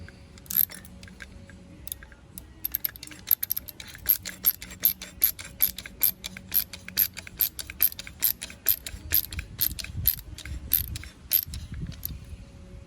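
Rapid ratcheting clicks while the clamp on a Hayward spa light fixture is tightened, sharp repeated pawl ticks in quick bursts, close up and alone.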